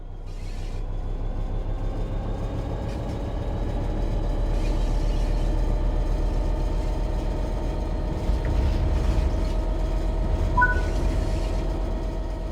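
A train in Train Sim World 3 pulls away under throttle, a low steady engine rumble with rail noise building gradually over about twelve seconds, with faint mechanical clicks and a brief high tone near the end.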